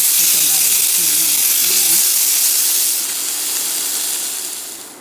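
Sausages sizzle loudly in a frying pan, a close, dense steady hiss that fades slightly toward the end, with a voice talking briefly over it early on.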